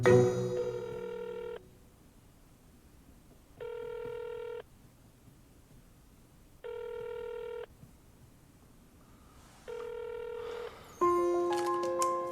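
An unanswered telephone rings in four evenly spaced electronic bursts with quiet gaps between them, clear and alone, ending in a brief different tone.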